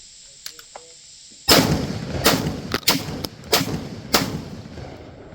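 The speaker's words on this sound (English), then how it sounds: "we got 5 more rounds of the Federal Upland through the Mac 1014" A Mac 1014 shotgun fires Federal Upland shells in five loud, close blasts at an uneven, fairly quick pace after a quiet start.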